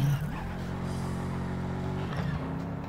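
A car engine drones steadily in the video game Heading Out, a low continuous hum with a brief tire-like squeal near the start and a shift in pitch toward the end.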